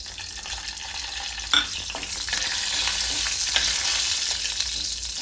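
Asafoetida (hing) dropped into hot oil in a pan while cooking Aagri chicken curry, giving a steady close sizzle and frying hiss with a brief louder crackle as it goes in.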